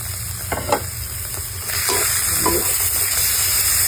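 Sliced beef dropped into a pan of hot Thai curry paste for a beef and eggplant curry, bursting into loud, steady sizzling with a few scraping stirs, close up.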